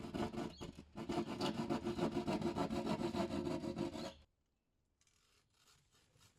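A pointed-blade hand saw cuts through a wooden board in quick, steady rasping back-and-forth strokes, close and loud for about four seconds before stopping, leaving faint quiet handling noise.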